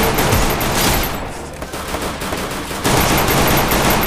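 Dense gunfire from the Free Fire battle-royale game, loud, continuous bursts of automatic fire with a brief dip in intensity midway before the shooting surges again.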